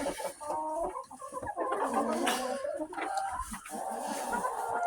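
Several chickens cluck and chatter continuously around a backyard coop, close and fairly loud, overlapping calls with no talking.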